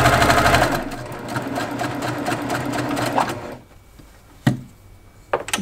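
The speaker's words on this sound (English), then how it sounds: "You can hear the presser foot." A sewing machine stitches quilt piecing over a nested seam, a loud rapid mechanical whir with steady needle chatter that stops after about three seconds, followed by a few sharp clicks and knocks from the presser foot.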